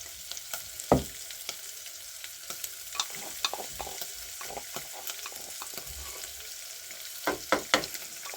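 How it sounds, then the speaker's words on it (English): Garlic dropped into onions frying for a beef stew, with a steady soft sizzle, scattered spoon scrapes and stirring knocks, and a few sharper clinks near the start and end. "after putting the onions, we go ahead and put our garlic."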